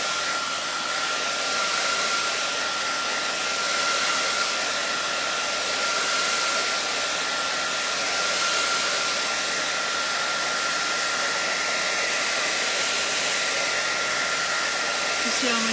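A hot hair dryer blows continuously at close range, a steady broadband whoosh with a faint high whine that holds level throughout with no talking.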